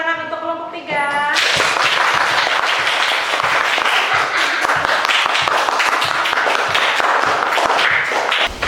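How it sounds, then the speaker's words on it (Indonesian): A classroom of students applauding group 3, a loud burst of many hands clapping that starts right after a short spoken phrase and continues steadily to the end. "Tepuk tangan untuk kelompok 3."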